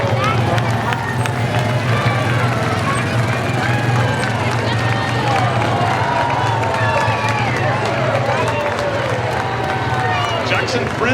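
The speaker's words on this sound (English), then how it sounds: "we can give them a big round of applause for taking care of us out in this beautiful country" A Fourth of July parade crowd in Jackson Hole, Wyoming applauds and cheers, a steady dense wash of clapping, whistles and voices outdoors that continues without a break and sits loud and close.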